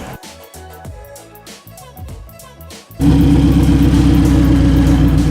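A car's exhaust suddenly roars in at close range after some earlier mixed sound, then holds a loud, steady, throbbing engine drone with a rapid pulsing rhythm until the end.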